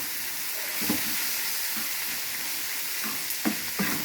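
Wheat rava for upma fries with a continuous, close sizzle in a pan, while a spatula scrapes and stirs through it in several separate strokes.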